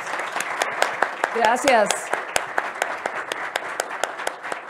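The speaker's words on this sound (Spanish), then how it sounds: "Les pido el favor de que me acompañen con un aplauso para los panelistas." Sparse, uneven clapping from a small audience for panelists at an energy-poverty forum, individual claps audible at a moderate distance, while a voice briefly speaks over it partway through.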